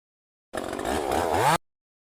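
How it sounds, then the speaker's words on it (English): A grinder machine in the Melon Sandbox video game runs in a single buzzing, whining burst of about one second with a slightly rising pitch, then cuts off abruptly into silence. "Representing the grinder."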